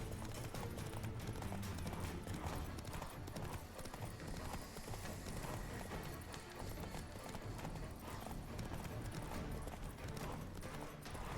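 Rapid horse hoofbeats in The Witcher 3: Wild Hunt pound in a continuous gallop, dense and driving, with an occasional whinny over a busy, noisy background.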